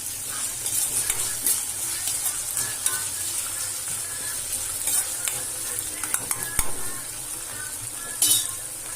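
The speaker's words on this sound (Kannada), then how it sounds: "ಕರಿಬೇವು ಹಾಕಿರ್ತೀನಿ ನೋಡಿರಿ ಒಂದು ಆಲೂಗಡ್ಡೆ ಹೆಚ್ಚಿಟ್ಕೊಂಡಿನಿ ಈ ಆಲೂಗಡ್ಡಿನ ಹಾಕ್ಕೊಂಡಿದ್ದೆ ಇದನ್ನೊಮ್ಮೆ ಕೈ ಹಾಕ್ಕೊಂಡು" Potatoes and curry leaves sizzle in a frying pan as they are stirred, a steady close hiss of frying broken by scrapes and occasional clinks of a utensil against the pan, with no talking.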